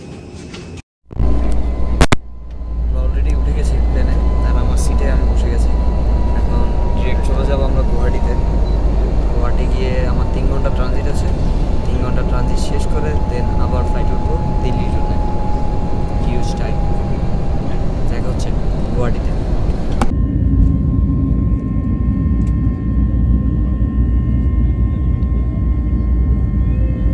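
Inside the cabin of an IndiGo airliner after boarding, a loud steady roar of engines and ventilation fills the space, with a faint whine, and people talk over it.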